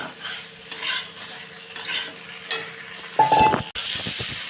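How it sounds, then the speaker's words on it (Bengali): Pieces of raw jackfruit, potato and drumstick fry in spice paste in a pan and are stirred with a spatula, giving soft scraping strokes over a low sizzle, with a cluster of sharp utensil clinks near the end. "সবজিগুলো দিয়ে মশলাটার সাথে সবজিগুলো একটু ভেজে নিতে হবে।"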